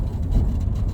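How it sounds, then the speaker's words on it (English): Van engine heard from inside the cabin, a loud low rumbling drone filling the short moment, no talking. "The van is much louder inside."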